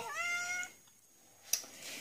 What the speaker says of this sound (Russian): что кот блеет. Да вот что, она малохольная, она ходит и блеет